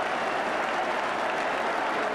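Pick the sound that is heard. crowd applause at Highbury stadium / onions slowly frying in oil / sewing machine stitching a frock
crowd applause at Highbury stadium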